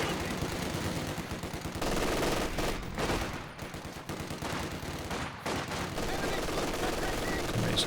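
Machine gun fire in Company of Heroes 2, bursts rattling steadily through a busy battle mix with other gunfire and game sounds, mostly loud and continuous with a brief lull midway.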